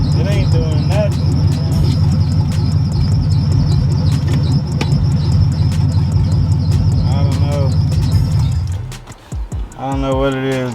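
An LS-swapped car engine runs steadily with a dense low drone, then drops and bogs down as the transmission is shifted into drive, settling into a lower, uneven note near the end.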